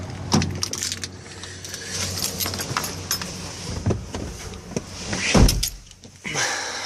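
Someone climbs into a truck: shuffling, rustling and clunks of the door opening and thudding shut, close and fairly loud, with scattered knocks and rattles.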